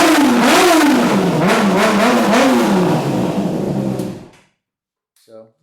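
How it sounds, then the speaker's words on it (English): A warmed-up 2007 Honda CBR600RR sport motorcycle engine revs repeatedly up and down, loud and close with a slight echo, then cuts off, followed by a brief voice. "I warmed it up a little bit, so I'll give a couple revs."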